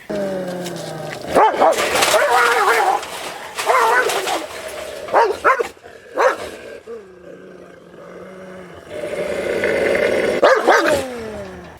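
Farm dogs fighting, with bursts of snarling, growling and sharp barks coming in several loud, close flurries separated by brief pauses.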